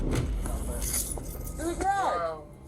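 House keys jangle in a brief metallic rattle, moderately close, as people talk around them.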